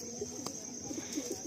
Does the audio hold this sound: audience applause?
no